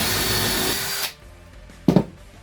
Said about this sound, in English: I'm gonna drill a hole starting from this top piece and going through.